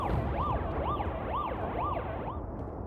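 An emergency siren in a video game wails in smooth rising and falling sweeps, about five even cycles, loud and continuous over a low rumbling background with no voices.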